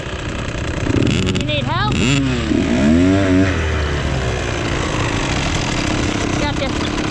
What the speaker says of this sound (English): Your bike's still running.